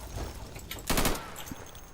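Sharp burst of gunfire in the Insurgency video game, one loud crack with a short rattle of echoes and scattered quieter shots, all close and prominent.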